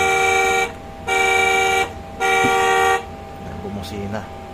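A toy ride-on Mitsubishi car sounds its electronic horn in three loud, steady beeps of about a second each, followed by faint talk and some softer tones.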